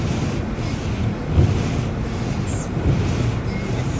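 Inside a car with something running at full blast, a loud, constant broadband rushing roar fills the cabin, swelling slightly now and then, with no speech.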